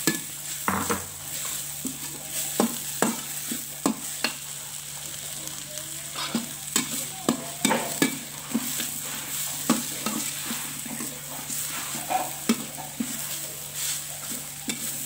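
Vegetables stir-fry in a pan for spicy fried rice, a continuous sizzle broken by steady scraping and clinking stirring strokes from a utensil, close and lively.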